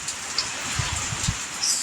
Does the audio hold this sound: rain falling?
yes